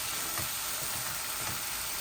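Potatoes crackle and sizzle steadily in a pan of hot oil, a close, uniform frying hiss with soft bubbling pops throughout.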